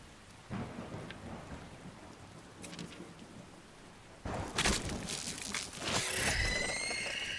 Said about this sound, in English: It's raining inside Bethesda.